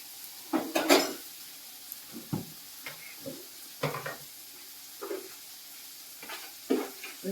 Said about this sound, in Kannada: ಇವಾಗ ಟೊಮೆಟೊನೆಲ್ಲ ಬೇಯಿಸಿ ಫ್ರೈ ಆಗ ನೋಡ್ರಿ.